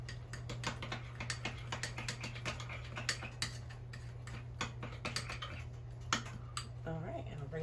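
Ingredients for a chipotle meatloaf being mixed in a bowl, giving irregular soft clicks and squishes that run steadily over a constant low hum, with a voice speaking at times.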